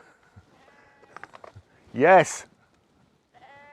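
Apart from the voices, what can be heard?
sheep bleating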